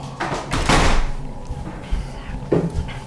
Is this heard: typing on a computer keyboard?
no